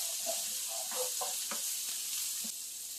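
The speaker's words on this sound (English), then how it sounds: "we're going to start by throwing in our red peppers and our green onions" Red peppers and green onions sizzling in a hot pan, a bright constant hiss with a few soft stirring taps, short and close with no voices.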